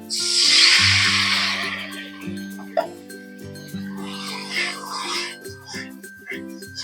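Spiced water poured into frying masala for a Bengali tel koi fish curry hisses loudly in a burst, then sizzles again a few seconds later, with background music playing throughout.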